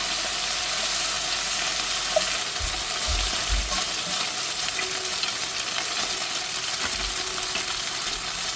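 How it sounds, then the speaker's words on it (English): Round-cut beef slices sizzle in a hot pan, a steady, close crackle and hiss of frying oil with a few soft low bumps as the meat shifts, no voices. "flip and cook the other side until both are evenly golden and crisp."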